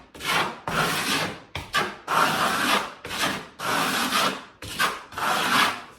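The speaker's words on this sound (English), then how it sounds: "it's loud when I trowel because of that sand, so it's constantly burnishing and gripping into that sand" A steel trowel burnishing sanded plaster on a wall, loud gritty scraping sweeps in a steady back-and-forth rhythm, about nine strokes each ending abruptly with brief gaps, close and alone.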